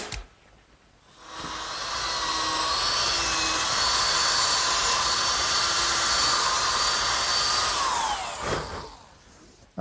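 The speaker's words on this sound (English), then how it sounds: "Now I'm pre-drilling holes for the screws that'll fasten the top." A power drill whines steadily at high speed for several seconds, pre-drilling screw holes into wood up close, then spins down and stops.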